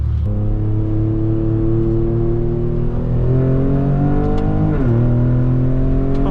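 A modified Ford Raptor pickup truck accelerates hard in a drag race, its engine note rising steadily and loud, shifting gear once near the end with a brief dip before climbing again, with no talk over it.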